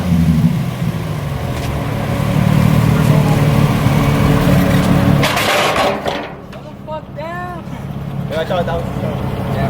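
A Nissan 350Z with a custom single-exit exhaust idles and revs with a deep, rumbling drone close by, then tapers into pops, while people talk over and after it.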